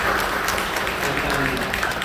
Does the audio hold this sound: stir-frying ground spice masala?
no